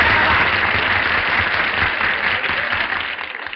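Audience applause on a radio program rises as a dense, steady wash of clapping for a few seconds, then gradually thins toward the end.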